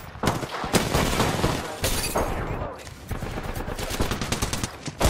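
Rapid bursts of gunfire from an Apex Legends match, loud and nearly continuous for several seconds, with sharp cracks and brief gaps between volleys and a voice heard faintly in the mix.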